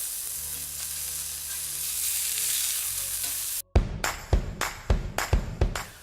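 Meat patties sizzle and fry in a cast iron skillet, a steady close hiss that cuts out briefly, then returns with a run of sharp spattering crackles.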